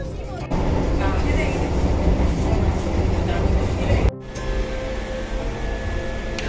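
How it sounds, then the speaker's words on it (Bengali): Howrah–Puri Vande Bharat Express train standing at Kharagpur station, a steady loud rumble of train noise with a brief cut partway through, then a slightly quieter continuous hum. "প্রায় 7:38 নাগাদ আমাদের ট্রেনের প্রথম স্টপেজ খড়গপুর এসে পৌঁছালো"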